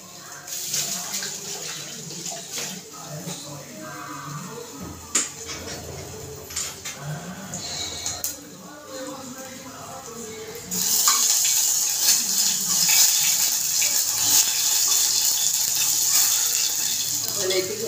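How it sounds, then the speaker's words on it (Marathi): A kitchen tap runs as hands are washed mid-cooking, a bright steady gush of water starting partway through after earlier clinks of utensils and pans. "हात धुवून येते पहिले"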